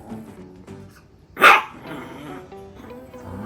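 A toy poodle lets out one sharp, loud bark close to the listener, with quiet room sound before and after.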